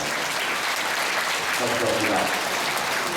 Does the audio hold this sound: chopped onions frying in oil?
no